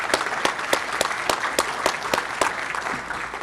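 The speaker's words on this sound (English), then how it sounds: "give a round of applause to all the doctors, all the firefighters, all the first responders" Scattered applause from a modest audience at a Rotary club meeting, individual claps standing out in an uneven rhythm for a few seconds, fairly close and clear with no talk over it.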